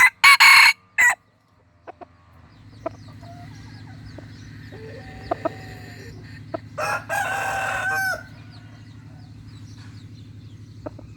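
A white decoy fighting rooster crows loudly near the start, followed by a quieter steady low hum and scattered clucks, then another burst of crowing toward the end.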